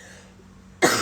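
A woman sick with the flu gives a single loud, harsh cough near the end, after a quiet stretch of room noise.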